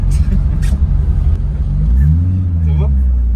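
A car drifting through Paris streets, its engine revving and climbing in pitch as it accelerates, loud and close, while voices talk over the motor.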